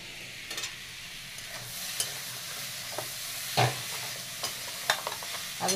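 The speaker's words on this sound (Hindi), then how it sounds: "टमाटर को भी थोड़ी देर भून लूंगी।" Tomatoes fry in a pan for sweet potato leaf curry, a soft continuous sizzle broken by repeated scraping stirs and occasional spoon taps on the pan, close and clear with no talking.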